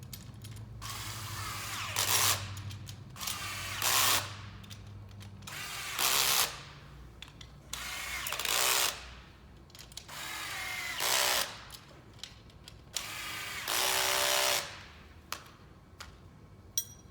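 A power drill drives fasteners into the cross pieces of a V-Flex frame during assembly, running in about eight separate close bursts of whirring and ratcheting with short quiet gaps between them, and no talk.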